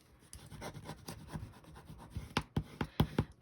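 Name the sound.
burnishing a folded scored cardstock crease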